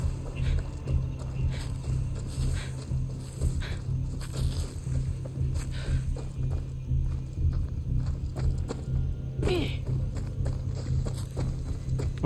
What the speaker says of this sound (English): Oh, is that the horse?